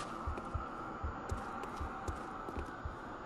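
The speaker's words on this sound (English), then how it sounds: "Alright, I hear a heartbeat in my ears" Heartbeat sound effect in the video game Bloodborne, a faint, regular low thumping pulse repeating about every quarter to half second over a quiet background drone.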